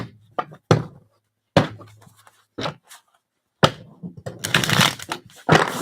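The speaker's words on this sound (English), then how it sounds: "Shuffling very nice though for you." A deck of tarot cards being shuffled up close, heard as a handful of separate soft slaps and taps followed by a denser, louder riffling burst near the end, with quiet pauses between.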